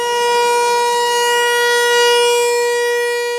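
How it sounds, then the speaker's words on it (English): A civil defense outdoor warning siren holds one steady, loud, sustained wailing tone throughout, with no voices or other sounds. "the siren system is actually the outdoor warning system"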